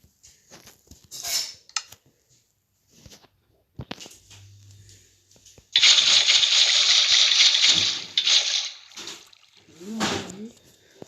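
Water gushes loudly in Minecraft for a couple of seconds amid scattered small clicks and faint voice fragments.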